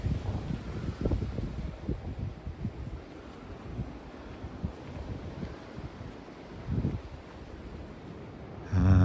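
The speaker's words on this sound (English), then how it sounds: "Very windy, very stormy." Gusty wind buffets the microphone on a stormy, rainy morning, rising and falling in uneven rumbling bursts with a low steady roar underneath, ending in a sudden loud knock.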